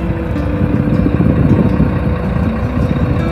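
A UD Nissan Quester CGE 370 truck's engine idles steadily up close, a continuous low rumble that holds even throughout with no speech.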